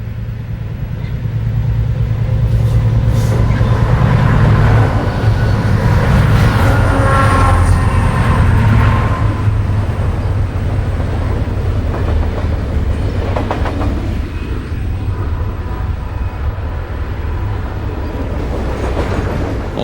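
A Santa Fe freight train cresting the top of a grade, a loud, steady rumble of locomotive engines and rolling freight cars that holds for the whole stretch, with faint wheel clatter and no voices.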